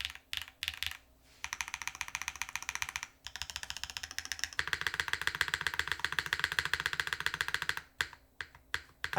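Typing on a Keycult mechanical keyboard fitted with Gateron Type R switches: close, crisp keystroke clicks in rapid bursts, separated by a few brief pauses.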